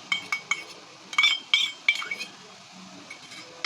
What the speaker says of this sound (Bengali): এর ভেতরে আমি চিংড়ি মাছ কিছু বেটে নিয়ে এসেছি সেটি মিশিয়ে দিচ্ছি